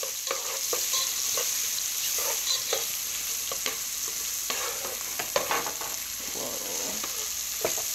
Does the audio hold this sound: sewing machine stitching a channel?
no